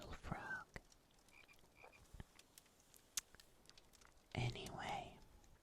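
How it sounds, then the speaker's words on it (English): Gertrude, a pet frog, gives a few soft croaks near a whispering voice, with scattered clicks and taps and a fuller burst of sound toward the end. "You're a good little frog."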